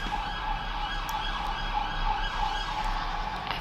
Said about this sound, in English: Siren goes past.